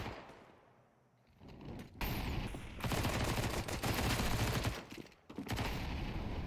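SMG gunfire in Counter-Strike on the Ancient map during an ESL Challenger League match: a quiet lead-in breaks into dense, sustained rapid bursts of shots with a brief gap near the end.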